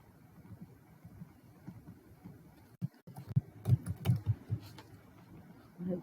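Soft clicks of keys being typed on a computer keyboard, a short irregular run of quiet taps close by against low room noise.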